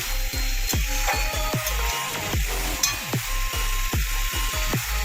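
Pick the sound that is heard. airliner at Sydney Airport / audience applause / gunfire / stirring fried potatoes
stirring fried potatoes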